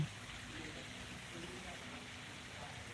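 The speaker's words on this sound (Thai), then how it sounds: "มีน้ำตกครับผม" A waterfall in front of a Buddhist temple hall gives a steady, even rush of falling water that holds at one level throughout.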